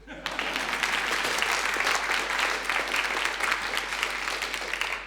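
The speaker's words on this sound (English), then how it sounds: "could you clap one more time?" A live studio audience at a Radio New Zealand National evening recording claps together, a dense, sustained wash of applause that holds steady and loud for about five seconds with no pause.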